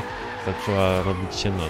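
A Ford Mustang drifting in Forza Horizon 3 gives a rising, wavering engine note with tire squeal, under a man's speech.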